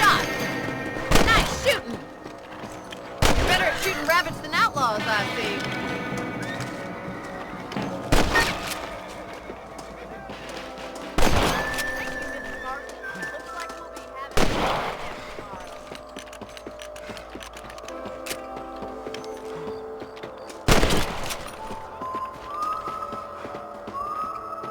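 A rifle fires at rabbits in the Red Dead Redemption video game: sharp, loud single shots ring out about every three seconds, each with a short echoing tail over soft tonal game music.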